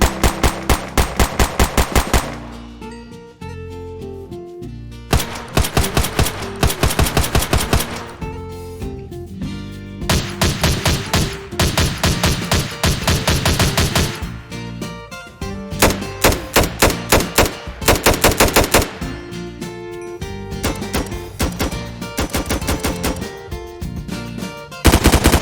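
Gunfire from the Gunscraft gun mod in Minecraft, with loud, rapid automatic bursts of sharp shots separated by short pauses, the firing repeating in close clusters for the whole stretch.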